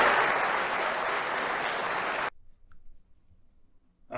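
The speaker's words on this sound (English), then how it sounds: "Why are they applauding?" A crowd applauds steadily for about two seconds, then the sound cuts off abruptly into near silence with only faint scattered noises.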